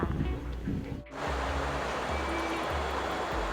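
Water in a stream flows over and past rocks at a riverside spot in Sapan, Nan, Thailand, giving a steady, dense rushing wash that dips for a moment and then carries on loud and close.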